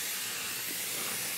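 Hairspray from a can is sprayed onto hair while a bun is being styled, giving a continuous, even, breathy hiss up close that lasts the whole moment with no talking.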